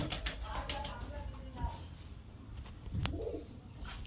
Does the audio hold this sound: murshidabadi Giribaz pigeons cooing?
yes